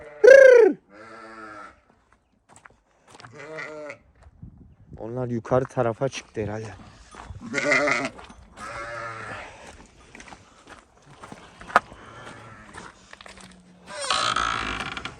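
A sheep bleats loudly up close at the start, then someone talks in Turkish with a few fainter animal calls scattered in the background.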